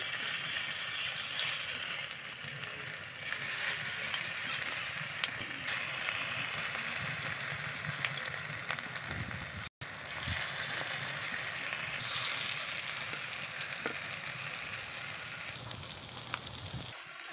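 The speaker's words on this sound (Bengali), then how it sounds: "এই বড়াটা আমি এই পকোড়াটা কিন্তু সর্ষের তেলেই ভাজবো" Pakoras made with medicinal greens fry in mustard oil in a hot kadai, giving a steady, close sizzle with fine crackling that runs unbroken, save for one brief dropout partway through.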